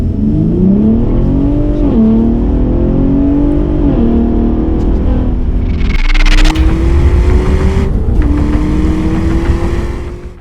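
A 2021 Ford F-150 Raptor engine revs loudly up close, a deep rumble climbing in pitch through several pulls with sharp bursts of throttle.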